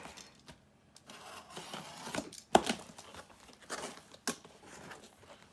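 Strong packing tape being torn and peeled off the box of an HP 15.6-inch laptop during unboxing: quiet crinkling and rips with a sharp tearing burst midway and another near the end.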